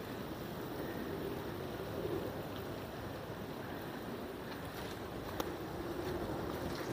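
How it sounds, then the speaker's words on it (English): Wind blows steadily outdoors near Shannon Airport, a soft continuous rushing with light buffeting on the microphone and no talking. "I think we're hearing, like, obviously the wind"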